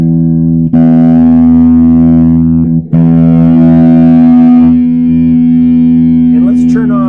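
A Gibson Midtown electric guitar rings out through a distortion effect in long, heavily saturated sustained notes, with a short break after each and a pick scrape near the end.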